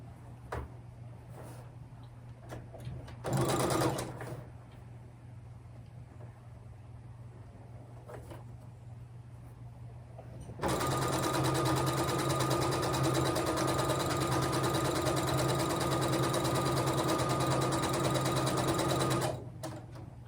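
A sewing machine stitches with a presser foot, first in short faint bursts and then in one loud, steady run of about nine seconds before stopping.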